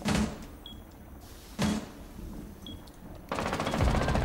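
Gunfire in the video game Rainbow Six Siege: two sharp single shots a second and a half apart, then a sustained burst of rapid automatic fire near the end.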